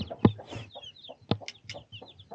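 Small chicks and a hen cluck and peep on a village farm, close and clear in short repeated bursts with higher chick chirps between the hen's lower clucks.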